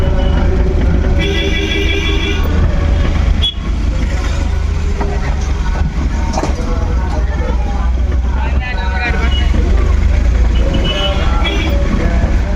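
Dense, loud traffic on a congested road at a fair: a constant rumble of engines, with repeated vehicle horns honking in short bursts, while people talk nearby throughout.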